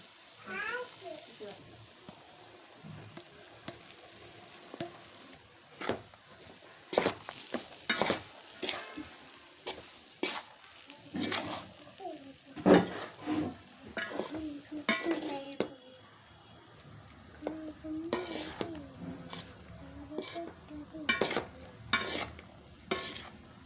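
Grated raw mango rice with coriander powder, dried coconut powder, salt and asafoetida being stirred in a pan for mango pulihora, giving repeated scraping and clinking strokes of a spoon against the pan, close and irregular, with a faint sizzle beneath.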